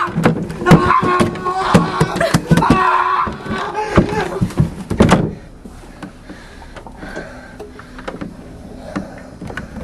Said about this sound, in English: A door slammed shut behind him